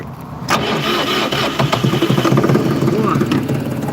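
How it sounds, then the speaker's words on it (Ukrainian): A Dongfeng tractor's diesel engine cranks and fires in frost at minus seven degrees, catching abruptly and settling into a loud, knocking run close by, with a voice briefly audible over it. "Двигун запустили, все працює."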